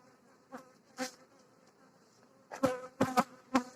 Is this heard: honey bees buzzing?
yes